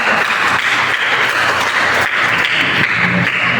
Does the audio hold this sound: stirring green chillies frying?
no